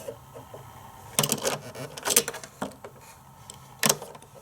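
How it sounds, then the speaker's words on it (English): Hot Wheels Sto & Go Classic playset toy repair lift worked by hand, giving a few short plastic clicks and ratcheting bursts spaced apart against a quiet background. "up here we have a working vehicle repair lift"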